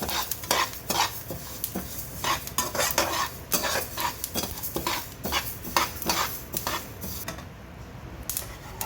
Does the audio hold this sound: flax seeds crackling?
yes